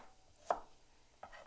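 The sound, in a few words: knife slicing shallot for green pepper sauce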